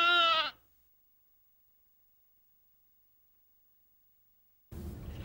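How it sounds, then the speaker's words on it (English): A goat bleats once, a short clear harmonic cry at the very start, followed by a long silence before a burst of other sound near the end. "Hello, Mr. Goat! You've got my hat!"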